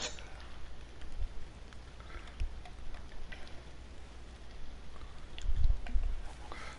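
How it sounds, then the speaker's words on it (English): Steady rain falling in the Fishing Planet fishing game, a soft continuous patter at low level with a few brief louder bumps, no talk over it. "Fucking raining."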